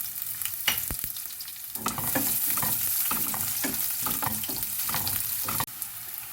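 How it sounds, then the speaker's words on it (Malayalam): Shallots dropped into hot oil with spluttering mustard seeds, a loud close sizzle and crackle with stirring scrapes through it, for chicken semiya upma. "കടുക് പൊട്ടി തുടങ്ങിയിട്ടുണ്ട്. അതിലേക്ക് ഒരു 20 ഉള്ളിയോളം ഇടുക"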